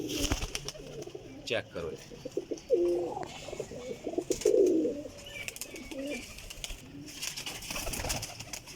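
Pigeons coo in low, soft, throaty phrases up close, several calls scattered among rustling and someone talking.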